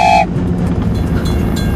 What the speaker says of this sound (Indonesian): Gerbang penyeberangan ditutup. Kita harus menunggu hingga kereta lewat.